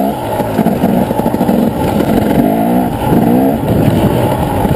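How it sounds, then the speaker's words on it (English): 2009 250 EXE dirt bike ridden on a trail, its engine roaring loud and close with constant throttle changes, plus rattling and wind buffeting throughout. "the bike I'm riding is a 250 EXE, it's a 2009 model"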